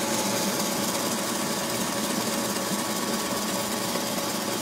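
Bread maker roasting Ethiopian Yirgacheffe coffee beans gives off a constant broadband whirring hum, steady and unbroken, with a slight rattle of tumbling beans underneath.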